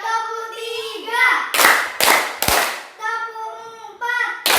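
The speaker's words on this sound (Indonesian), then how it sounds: "Tepuk 1, tepuk 2, tepuk 3," Children clapping in counted patterns in a primary classroom, a few sharp loud bursts of claps close by, separated by a teacher's sung-sounding counting and children's voices.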